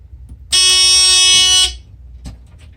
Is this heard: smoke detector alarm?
yes